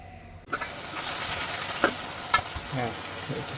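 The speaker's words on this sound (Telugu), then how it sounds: "చికెన్ బాగా ఫ్రై స్టేజ్లోకి వచ్చేసింది." Chicken frying in a kadai for chilli chicken curry, a sizzle that starts abruptly and then holds steady and close, with a few sharp pops and stirring clatters.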